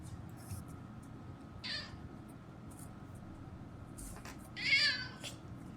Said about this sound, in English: That sure is a meow.